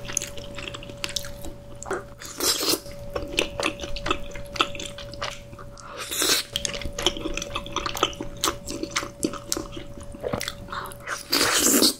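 Chewing and slurping of spicy rose-sauce braised boneless chicken with Chinese glass noodles, wet squishy bites and crunches repeating close to the mic, with occasional louder bursts and no talking.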